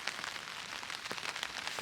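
Heavy rain patters on a tent during wild camping, a dense continuous hiss broken by sharper individual drop taps, close and steady, with no talking.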